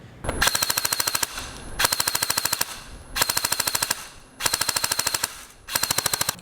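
An LCT PKP airsoft machine gun fires .20 g BBs in five loud, close, sustained bursts of rapid even shots, with short pauses between bursts and no talk.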